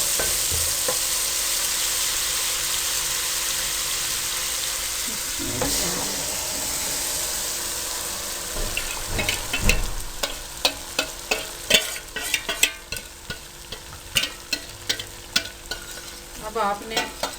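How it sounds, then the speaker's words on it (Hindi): A spoon stirs thick kadhi in a pot, first a steady sizzling hiss, then a series of scraping, clacking strokes against the pan. "इसमें आपने यूं चम्मच चलाते रहना है।"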